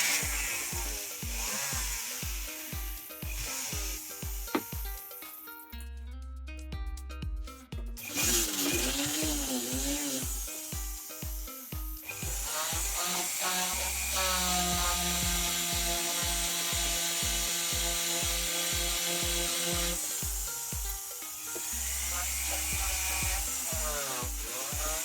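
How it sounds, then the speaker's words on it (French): A cotton thread polishing wheel buffs a handmade adjustable ring, giving a motor whine with a rhythmic rubbing pulse that stops briefly and then resumes, close and moderately loud, with no voices. "je polis avec la meulette en fil de coton"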